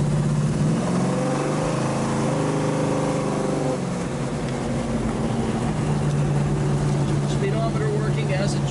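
A 1968 Plymouth Barracuda cruising down a road, its engine droning steadily with a low hum and road noise throughout, while a voice talks over it.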